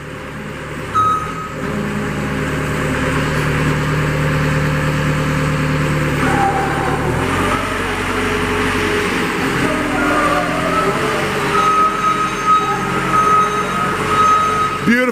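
A 2021 GEHL R165 skid steer loader's engine runs steadily, with a loud, close diesel rumble and a faint high beep in places.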